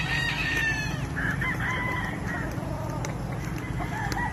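Hens clucking and a rooster crowing over steady farmyard background noise, several birds calling close by.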